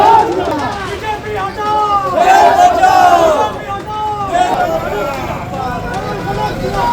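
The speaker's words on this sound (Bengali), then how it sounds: "বিজেপি এবং তৃণমূল কর্মী সমর্থকদের মধ্যে বচসা স্লোগান।" A loud, dense crowd of BJP and Trinamool supporters argues and chants slogans during a tense hearing in Asansol, with overlapping shouts and voices rising and falling throughout.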